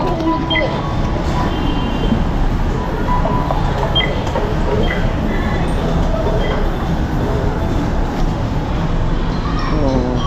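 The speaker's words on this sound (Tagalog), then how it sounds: "Lahat ng train kadarating lang eh." A train arrives at Roosevelt station in a loud, continuous rail rumble with metallic rattles and faint squeals, heard from close by on the platform.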